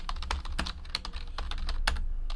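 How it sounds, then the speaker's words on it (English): Quick, close keystrokes on a computer keyboard while entering football trading card hits, a busy irregular run of crisp clicks with a few louder taps and no talking. "So let's type in all of these hits."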